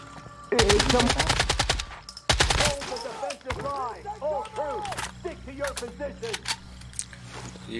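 Gunfire in the video game Once Human at a military settlement: two loud, rapid automatic bursts fire close up, then quieter warbling, chirping tones carry on alone.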